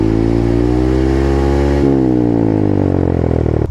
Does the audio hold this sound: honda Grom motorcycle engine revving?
yes